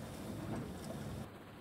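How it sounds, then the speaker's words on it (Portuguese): Steady rain falls in the Tourist Bus Simulator game, a continuous broadband hiss with a soft low rumble that holds evenly throughout, thinning slightly near the end. "É, tá com chuva, mas a chuvinha é bem fraquinha"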